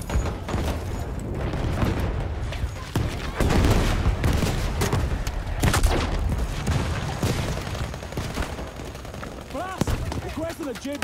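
Gunfire is aimed at a small building in a video game battlefield. Dense, continuous shots and booms overlap with no pauses, and a voice is heard faintly under the shooting.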